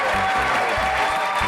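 A crowd at a university SMART Challenge competition applauds with steady clapping throughout the short stretch.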